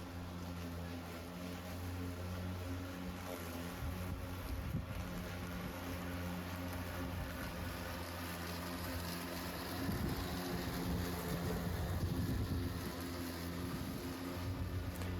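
Husqvarna electric lawn mower cutting grass outdoors: a steady, continuous motor whine and blade hum throughout, with swelling bursts as it bites into thicker grass, close by and masked somewhat by wind noise.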